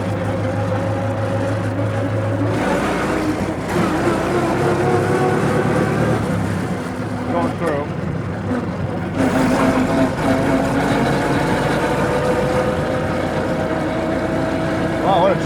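A 1915 Hispano Suiza car powered by an 18.5 liter V8 World War I airplane engine rumbles steadily and loudly while driving, with people talking and exclaiming over the engine throughout.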